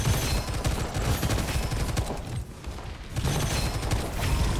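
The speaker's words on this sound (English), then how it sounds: "her DLC has one of the most overpowered guns of all time. It is an auto-aim gun." An overpowered auto-aim gun in the shooter game Gunfire Reborn fires in a dense, rapid stream of loud shots. The fire runs almost continuously, with one short dip in the middle.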